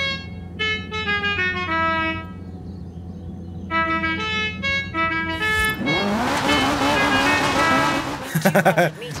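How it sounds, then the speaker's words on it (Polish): A quirky custom musical horn on a car in Forza Horizon 3 plays a loud tonal melody in repeated bursts, followed by a busier electronic dance tune and a final rapid flurry of horn notes. "Zapomniałem, że ja mam taki dziwaczny klakson tutaj ustawiony."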